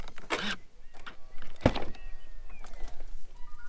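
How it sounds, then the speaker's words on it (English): A Jaguar F-Type car door unlatches and swings open with a sharp thunk and a short mechanical click, followed by faint rustling and soft chimes nearby. "So let's open up the car"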